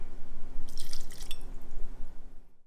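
Blanco tequila, El Tesoro, poured for a mango and passion fruit cocktail: a short liquid pour with bright splashing trickle lasting about a second, close and fairly clear over a low steady background hum.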